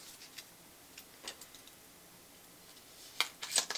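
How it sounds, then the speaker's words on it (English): Several quiet snips and crinkles at first, then a quick burst of sharper scissor cuts and crackling as scissors cut open a face product's packaging near the end. "I just had to use a pair of scissors to open this."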